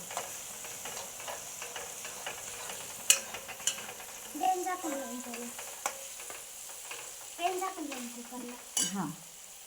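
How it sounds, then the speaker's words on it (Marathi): Vegetables sizzling in a pan of tempering oil, a steady soft hiss broken by the scrape and clink of a stirring spoon, heard close up in a quiet home kitchen. "भाजी फोडणी दिलेली आहे"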